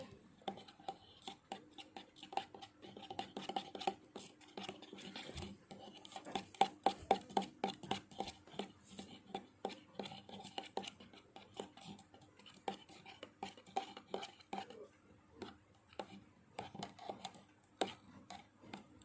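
A spoon stirs a protein solution mixed with Sunlight dish soap in a small container, giving quiet, irregular clinks and scrapes that repeat through the whole stretch.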